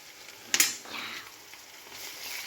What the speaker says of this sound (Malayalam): ഇത് ഇനി ഒന്ന് ഇളക്കിയെടുക്കാം ഇങ്ങനെ ഇളക്കുമ്പോൾ നല്ല കളർ വരും